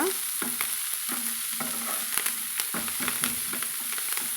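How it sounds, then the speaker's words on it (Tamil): Chopped greens are stirred into onions frying in oil, with a steady bright sizzle and repeated scraping, clacking strokes of a spoon against the pan at close range. "நல்லா எண்ணெயோட அந்த வெங்காயத்தோட வதங்கியிருக்கிற வெங்காயத்தோட கலந்து வரும்படி நல்லா ஒரு நிமிஷத்துக்கு நம்ம இது போல் கலந்து விட்டுக்கலாங்க"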